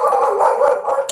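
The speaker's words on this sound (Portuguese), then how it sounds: "Gente, perdão pela minha cachorra, tá?" A pet female dog gives a drawn-out, whining bark-howl, close and fairly loud, during an online training talk on cervical cancer.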